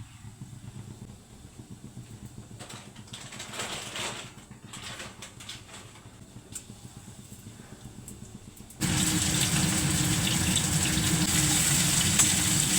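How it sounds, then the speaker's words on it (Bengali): Cumin seeds and onion fry in a pan at home, a soft crackle at first under some clattering, then a loud, steady sizzle that starts abruptly and keeps going. "একটু জিরে ফোড়ন দিলাম, পেঁয়াজটা একটু হালকা ভেজে নিলাম।"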